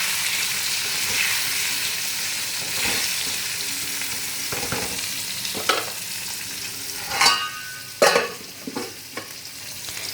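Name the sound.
pointed gourd (potol) frying in pan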